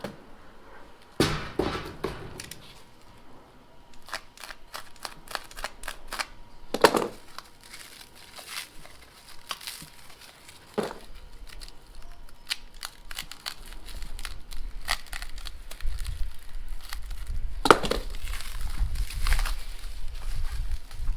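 Packaging is pulled apart and crushed while unboxing an AEW TE102 stainless steel megaphone exhaust for an Interceptor GT 650 motorcycle, irregular crinkling and crunching bursts close by, some sharp and loud, with quieter gaps between.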